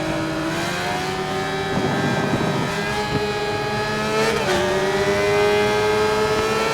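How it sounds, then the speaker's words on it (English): A high, hollow engine howl from a 2009 Suzuki GSX-R600 in the racing video game Ride 4, rising and falling as it revs, with no talking. "Almost like a 5-valve per cylinder kind of howl to them."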